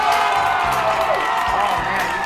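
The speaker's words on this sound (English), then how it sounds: "you can hear the fans cheer" A crowd of fans cheers steadily throughout, a dense, moderately loud wash of voices and whoops with no break.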